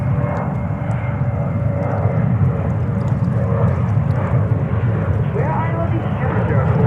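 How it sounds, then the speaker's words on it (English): A JetBlue Airbus A320 roars down the runway on takeoff at JFK airport, a loud, sustained, rumbling engine thunder with steady intensity throughout. "we have JetBlue Vacations 320 taken off"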